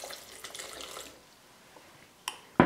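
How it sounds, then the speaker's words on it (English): Spring water pours into a blender jar holding strawberries, peaches, cherries and blueberries, a short soft splashing trickle followed by a couple of sharp knocks. "Then we're going to add some spring water, about a cup or so."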